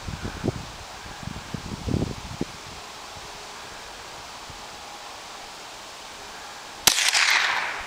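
A single rifle shot fired at a target 100 yards away cracks sharply near the end after a quiet stretch of outdoor rustling, followed by a short decaying echo.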